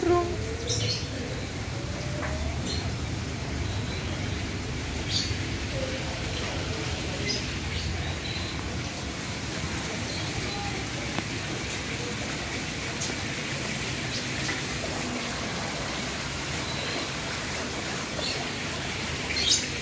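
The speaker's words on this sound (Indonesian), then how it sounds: "Ada burung." Birds sing in the garden of a villa, scattered small chirps and tweets rising above a steady outdoor hiss, with a person talking now and then.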